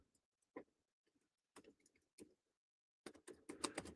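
Scattered keystrokes on a computer keyboard, a few isolated taps early followed by short clusters and then a quicker burst of typing near the end, close and fairly quiet with no talking.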